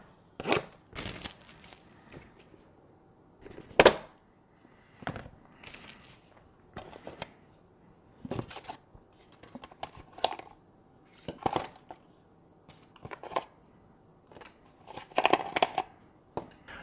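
A UniFi G3 Instant security camera is unboxed, with soft, scattered crinkles, rustles and taps of packaging spread across the clip at a quiet level.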